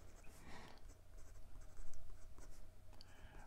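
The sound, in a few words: Parker fountain pen writing on paper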